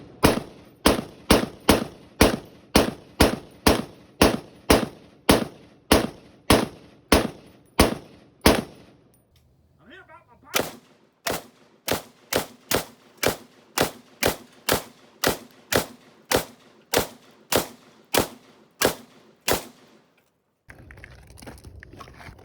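M14 rifle with 18-inch barrel firing 7.62x51 rounds at a spall bag, loud evenly spaced single shots in a steady rhythm, about eighteen in two strings separated by a short pause.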